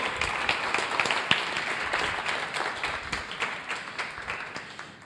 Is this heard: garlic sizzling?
no